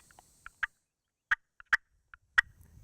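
Sparse, sharp turkey hen clucking calls: single and doubled short notes spaced irregularly over a quiet background, clear and fairly close.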